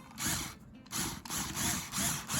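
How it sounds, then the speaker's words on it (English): A drill bores a hole in the wooden body of an acoustic guitar for a strap button, with several short close whirring bursts and brief pauses. "I'm just going to come in and drill"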